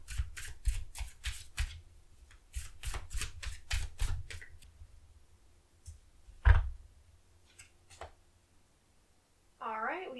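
Stiff cardstock tarot cards shuffled by hand in a rapid series of crisp, close slapping riffs, then a few slower separate snaps, with a brief fluttering riffle near the end.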